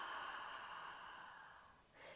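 A long, soft exhale during a hypopressive breathing exercise fades gradually over a couple of seconds, close and faint, ending with a short, slightly louder breath.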